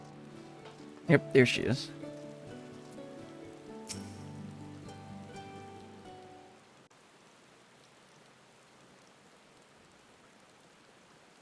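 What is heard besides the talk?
rain falling, from video game Final Fantasy XIV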